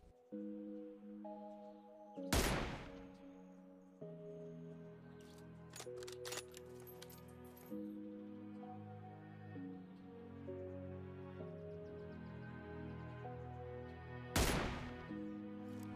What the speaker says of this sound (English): Here I am shooting from high ground to low ground around 475 meters.